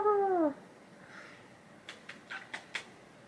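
A cat gives one clear, falling meow up close, followed by a quiet pause and then a run of short, sharp clicking or tapping sounds.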